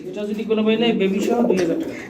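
Fancy pigeons, including yellow-eyed Bombai pairs, cooing up close in a bird market, a continuous low throaty coo rising and falling alone for about two seconds.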